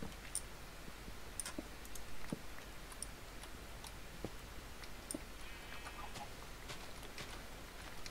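Chickens in the Minecraft video game give scattered short clucks among sparse clicking game sounds, faint and irregular with no one speaking.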